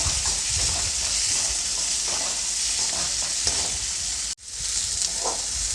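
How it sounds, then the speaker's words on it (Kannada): Tomato, onion and garlic frying in oil on a stove, a continuous bright sizzle with faint stirring scrapes, close and steady, with a brief dropout near the end before the sizzle resumes, no voices. "ಟೊಮೊಟೊನೂ ಸಹ ನಾನು ಎಣ್ಣೆಯಲ್ಲಿ ಫ್ರೈ ಮಾಡ್ಕೊಳ್ತೀನಿ"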